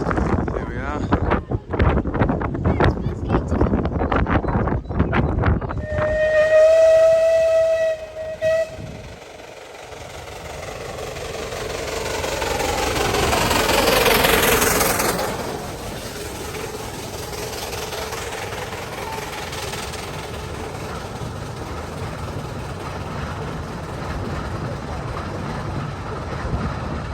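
A diesel locomotive approaches on the heritage River Esk line, its horn sounding and engine noise swelling to a loud peak before settling into a steady rumble, with wind buffeting the microphone and a voice speaking early on.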